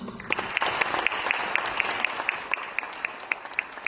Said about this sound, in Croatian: jednim velikim pljeskom pozdravite gradonačelnika grada Slavonskog Broda, gospodina Mirka Dusparu